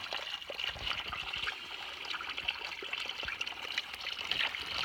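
Cold mountain stream water trickling and flowing downstream of its source, a steady close bubbling wash that continues throughout with no talk.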